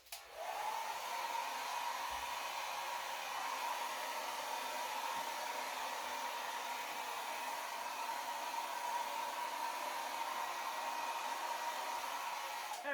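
Hair dryer blowing across wet acrylic paint for a blowout pour, starting up abruptly and then holding a steady, close, even rushing whir for the whole stretch with no talking.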